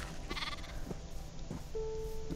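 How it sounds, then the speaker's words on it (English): Sheep in the video game Minecraft bleat a few times, short moderately loud calls spaced across the moment over a steady game background hum. "There's lots of sheep around."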